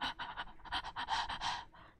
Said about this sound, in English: I hear the breathing of that thing.